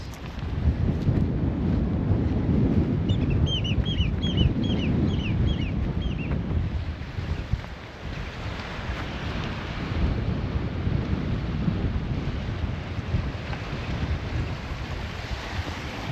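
Strong wind roars steadily across a rocky shoreline on a remote island, a loud, continuous rush that buffets the microphone, with a brief run of bird chirps breaking through early on.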